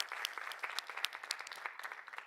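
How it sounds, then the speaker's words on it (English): Audience at an awards ceremony giving a round of applause, steady clapping from a modest crowd, fairly faint and heard alone. "So once again, give yourself a round of applause."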